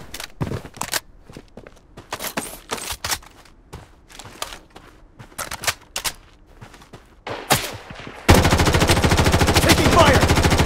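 Gunfire in the shooter game Blood Strike: scattered single shots and short bursts with footsteps, then a sustained, dense rapid-fire volley at the end, sharp and close.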